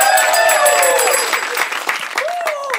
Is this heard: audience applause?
yes